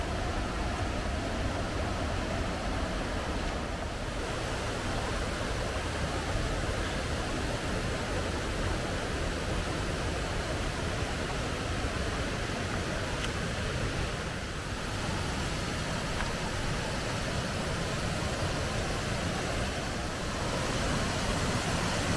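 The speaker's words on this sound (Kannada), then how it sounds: "ನೀರ್ ಸೌಂಡ್ ಜೋರಾಗಿ ಕೇಳಿಸ್ತಾ ಇದೆ." Abbhi waterfall near Mudigere in Chikkamagaluru roars with a dense, steady rush of heavy water, loud and close, holding constant for the whole stretch with only slight swells.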